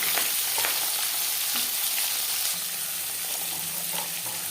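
Carrots hitting hot mustard oil with black mustard seeds, raising a loud, continuous close-up sizzle of frying that holds steady throughout.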